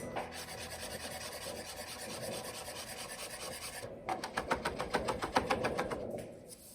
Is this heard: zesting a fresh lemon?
yes